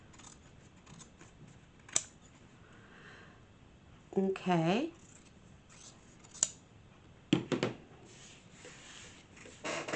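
Dull scissors snip through sari silk upholstery fabric in a few short crisp cuts, separated by quiet handling noises, with a brief spoken word in between.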